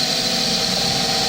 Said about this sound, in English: Speed the lathe up.